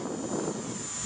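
A Volantex SonikRC Corsair RC plane makes a full-throttle fly-past, its electric motor and propeller giving a steady, loud whine and drone throughout, with no voices.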